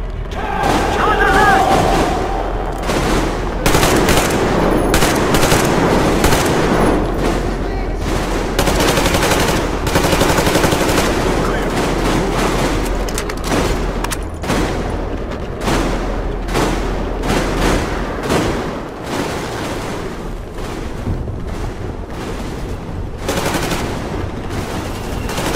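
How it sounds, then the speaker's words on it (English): Sustained machine-gun covering fire in the game Metro Exodus: a loud, dense stream of bursts with heavy booms mixed in. The firing keeps up across the whole stretch and thins slightly toward the end. "Covering fire for the Colonel."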